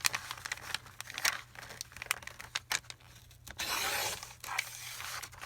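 Paper scraps for a scrap journal being cut down at a work table, a close run of irregular crinkling, snipping and rustling bursts, with a longer rough stretch of paper handling partway through.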